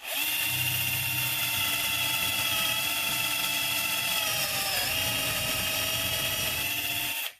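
A cordless drill bores steadily into wood while making a dowel joint, with a loud, continuous high-pitched whine that runs for about seven seconds and stops abruptly at the end.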